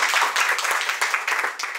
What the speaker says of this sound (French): Ok les filles, on a le droit de s'applaudir parce qu'on a quand même gagné